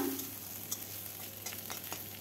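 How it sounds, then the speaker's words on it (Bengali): Dried shrimp frying in hot mustard oil in a wok, a steady close sizzle with occasional scrapes and stirs, no voices. "চিংড়ি মাছের শুটকিগুলো এখন আমি ভেজে নেব।"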